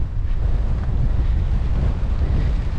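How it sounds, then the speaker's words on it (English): Steady wind blows outdoors on a rainy urban street, a loud continuous rumbling buffet against the microphone with no pauses or voices. "Still windy, still rainy, rat's day today."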